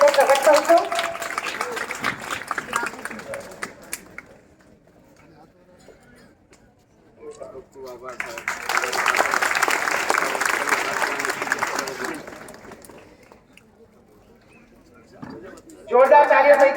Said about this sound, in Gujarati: આ પ્રસંગે આપણે જોરદાર તાળીઓથી સાહેબને અભિવાદિત કરીશું.